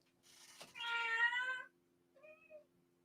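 A house cat lets out a loud, drawn-out meow followed by a shorter, softer one, both close and clear against a quiet room.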